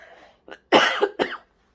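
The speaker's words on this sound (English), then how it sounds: "I'm gonna cough." A person coughs a few times close by, short harsh bursts after a faint breath.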